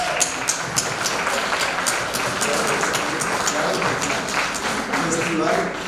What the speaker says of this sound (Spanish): un aplauso para la idea